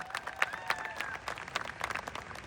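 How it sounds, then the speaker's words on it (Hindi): A crowd at an AWPL company gathering claps loudly in thanks to the company's founder, a dense burst of many hands with a few sharper peaks and faint whistle-like tones, heard somewhat distant. "जोरदार तालियां, जोरदार।"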